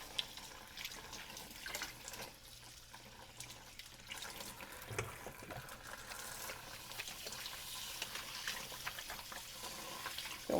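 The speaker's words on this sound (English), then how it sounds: "wash those hands real quick because, you know, ew." Steady running tap water while hands are washed in a kitchen sink, a continuous close splash and rush with faint shifting as hands move through the stream.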